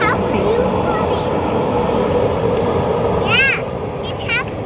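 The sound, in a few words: SkyTrain passing near a station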